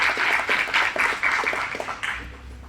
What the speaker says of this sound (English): Can we give them another round of applause before we get into our Q&A?